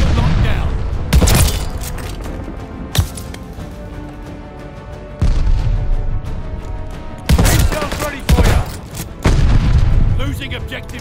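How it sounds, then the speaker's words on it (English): Several loud, booming explosions from a glide bomb strike in the shooter game Call of Duty: Vanguard, with heavy bursts landing at intervals amid continuous battlefield rumble and gunfire, and speech over the din. "Enemy's got a glide bomb incoming."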